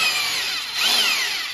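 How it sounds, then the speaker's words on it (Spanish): A TOTAL 650 W rotary hammer drill runs in plain drill mode, giving a steady, close, high-pitched whine that rises slightly in pitch partway through, with no voices over it. "Funciona como si fuera un taladro normal."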